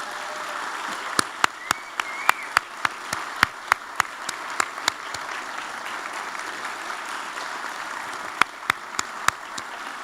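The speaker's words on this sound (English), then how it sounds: "So I would appreciate it if you would all join me to give my husband" Applause fills a swearing-in ceremony for a county executive and council, a dense, even wash of clapping from a crowd with sharp individual claps popping out close by.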